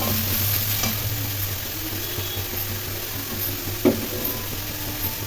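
Mixed vegetables with diced eggplant stirred and lightly fried in a pan for a prawn dish, a continuous close sizzle under scraping spatula strokes, with one sharper knock near the end and no voices.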